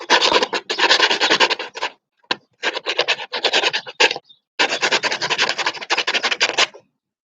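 Someone hand-sands the corner of a homemade wooden handle for a sliding door, making loud, close, raspy scraping strokes in long runs broken by short pauses.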